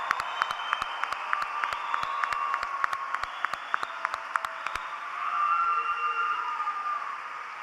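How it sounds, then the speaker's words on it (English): Sustained crowd applause at a class of 2024 commencement ceremony, a dense wash of clapping with sharp individual claps standing out, holding steady and swelling slightly toward the end. "Let's have one more round of applause for the class of 2024."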